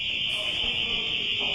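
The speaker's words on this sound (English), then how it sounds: "That is the sound of an alarm going off when Mark Harris opened a security door" A loud, continuous high-pitched electronic alarm tone sounds steadily and close after a security door is opened, with faint background noise beneath.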